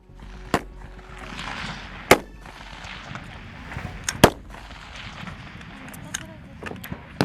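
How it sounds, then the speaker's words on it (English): An M16A4 rifle firing single semi-automatic shots at a Marine Corps boot camp range, giving sharp, loud cracks spaced irregularly over a background of distant gunfire from other shooters. "They practice firing in semi-automatic mode, developing versatility with the M16A4 in various combat scenarios."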